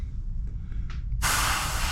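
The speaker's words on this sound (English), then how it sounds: "So that's all you're doing, spraying these down." Spray paint being applied to the markings on a Monogram P-39 model plane: quiet room noise, then a steady, close, loud hiss of spray that starts partway through and continues to the end.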